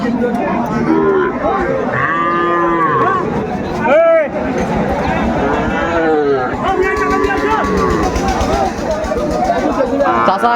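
Cattle, including young bull calves, moo repeatedly at the Aftabganj livestock market. The long, loud calls rise over the steady hubbub of a crowd, and people talk nearby throughout.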